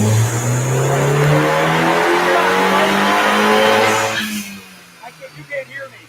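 Big turbocharged Dodge Dart engine revving hard on a dyno, a loud sustained rising drone held for about four seconds before cutting off, followed by quieter pops and voices.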